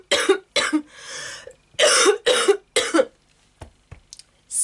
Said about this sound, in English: Now I've had that coughing fit.